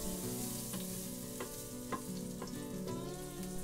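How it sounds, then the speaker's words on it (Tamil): Garlic frying in melted butter inside an Instant Pot, a steady soft sizzle running throughout beneath sustained background music, with a few faint stirring clicks and no talking. "பூண்டை சேர்த்துட்டு ஒரு நிமிஷம் ஃப்ரை பண்ணலாம்."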